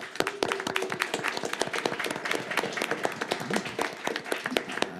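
Conference audience applauding the translators at a community panel, dense steady clapping from many hands filling the room for several seconds, close and fairly loud with no talk over it.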